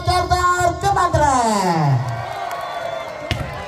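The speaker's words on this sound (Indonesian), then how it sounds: "Mana tepuk tangannya buat Kartar Kemandre?" A crowd at an amateur village volleyball match cheers and shouts loudly through the first two seconds, then fades to a lighter murmur, with an announcer's voice sliding over the noise.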